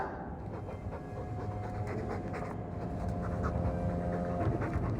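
Mabari war dog panting steadily in the video game Dragon Age II, a continuous breathy rhythm over a low game ambience with tonal background music, fairly close and even in level throughout.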